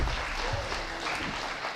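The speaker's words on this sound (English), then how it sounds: "Oh, now I get applause." A short burst of applause rises from a meeting audience of an astronomy club, steady and fairly close, lasting under two seconds.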